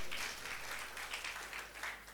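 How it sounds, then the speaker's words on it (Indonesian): A church congregation claps for God during a Sunday service, producing a short burst of steady, moderately distant applause with gentle pulsing swells. "Berikan tepuk tangan bagi Tuhan"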